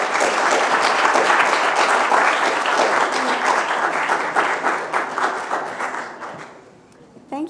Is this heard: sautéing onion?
no